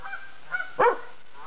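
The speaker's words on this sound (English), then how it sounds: "You can get the ducks too, Theodore." A single loud honk from a duck rings out after a couple of faint duck calls, close by and brief.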